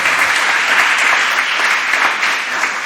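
Church congregation at a Sunday service breaks into loud, dense applause, a continuous roar of many hands that holds steady for the whole stretch.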